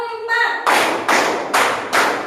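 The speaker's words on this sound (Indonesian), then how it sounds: "Tepuk 1, tepuk 2, tepuk 3" A short spoken count gives way to four sharp, evenly spaced hand claps in a classroom counting clap game, each clap crisp and close.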